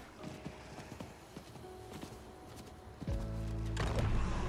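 Horse hooves clip-clop at a steady walking pace in a video game, with a mid-distance, moderately loud rhythm; partway through, a low droning tone swells and continues beneath the hoofbeats.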